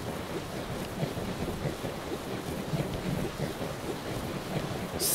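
Ocean waves in Zelda: Breath of the Wild, a steady broadband wash of surf and wind rolling on continuously at moderate level with no talk over it.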